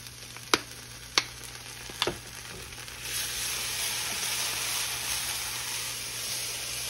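Garlic added to tomato paste in a pan for short ribs, with three sharp clicks of a utensil followed by a steady, moderate sizzle that rises and holds to the end.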